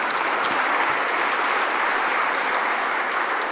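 An audience at a Global South forum session applauds South Africa's BRICS presidency, dense sustained clapping from a large crowd, even and loud throughout with no speech over it.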